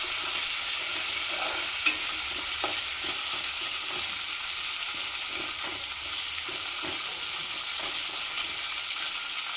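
Fenugreek chutney ingredients with chillies stirred in a frying pan, a continuous close sizzle broken by regular scraping spatula strokes, with no talking.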